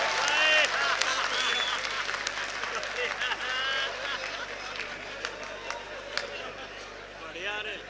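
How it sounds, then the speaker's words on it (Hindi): Audience clapping and cheering at a Haryanvi comedy poetry show, a dense, sustained wash of applause with crowd noise and some voices running through it for the whole stretch. "तालियां खुल के बजाओ दोस्तों"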